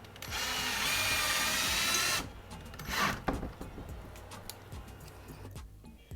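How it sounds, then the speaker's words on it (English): A power drill runs at steady speed for about two seconds while driving into a fireplace wall during a DIY build, then a shorter burst follows, with scattered handling clicks and knocks afterward. "I'm going to drill that one into the wall right here"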